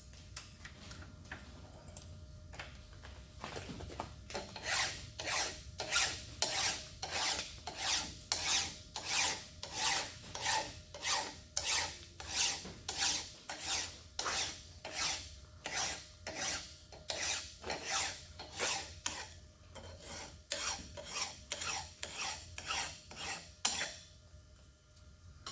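A hand file deburrs a metal part machined on a shaper, a steady series of about thirty close, rasping strokes in an even back-and-forth rhythm over quiet workshop background.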